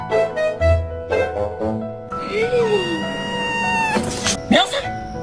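A cat meows several times in drawn-out, wavering cries, up close and fairly loud, while a person talks over and between the calls.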